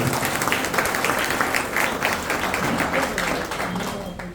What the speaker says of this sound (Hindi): इनके लिए जोरदार, इनके सम्मान में तालियां होनी चाहिए, जोरदार तालियां।